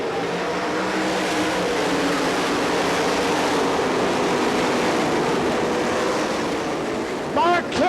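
Sprint cars racing at the Knoxville Nationals make a continuous, distant engine roar blended into a wash of crowd and wind noise, steady and loud for the whole stretch, with a brief tonal swell at the very end.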